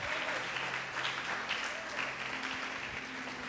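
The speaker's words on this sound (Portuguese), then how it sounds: "Pode aplaudir e glorificar o Senhor Jesus." A congregation at a Portuguese-language church service applauds in praise, a faint, steady wash of many hands clapping with some low room hum beneath it and no clear talking.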